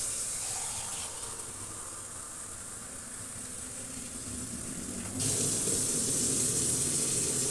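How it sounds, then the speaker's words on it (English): Water pours steadily into a cooking pot for pasta, a continuous hissing splash that grows louder and brighter near the end. "This is 2 cups of water right here, so we're going to pour that in there."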